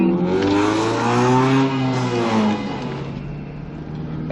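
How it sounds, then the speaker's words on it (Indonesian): A loud exhaust revs hard near a toll gate on a road trip, a strong rising and falling engine roar that swells for about two and a half seconds and then settles into a steady idle rumble. "knalpotnya doang suaranya"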